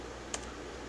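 A single soft key click on a computer keyboard while entering a number, brief and close against a quiet background hum.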